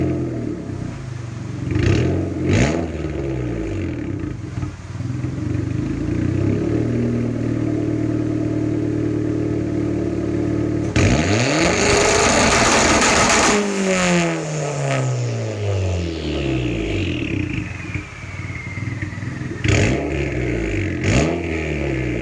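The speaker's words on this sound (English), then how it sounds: "I'm gonna go ahead and do some launch control real quick, see if we can get some fireballs out the back" A car with a newly welded exhaust revs hard on launch control, with sharp rising and falling engine sweeps, a long sustained high-rev hold in the middle and crackling pops from the exhaust, loud and close.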